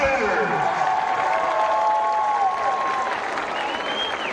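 A stadium crowd at the Kansas Shrine Bowl football game in Hays applauds and cheers for cheerleaders, a broad steady wash of clapping while an announcer's voice rings out over the top.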